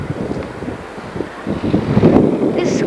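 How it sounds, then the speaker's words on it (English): Strong gusts of wind blow around a Chicago skyscraper, buffeting the microphone in uneven bursts that build louder toward the end, with rushing and rumbling noise throughout. "It's really windy here."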